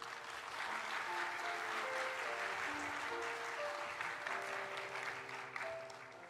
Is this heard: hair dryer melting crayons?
no